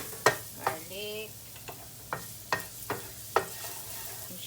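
Garlic sizzling as it fries in a pan, a steady close hiss broken by several sharp scraping clacks of stirring at irregular intervals.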